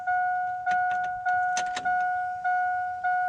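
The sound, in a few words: truck fuel pump priming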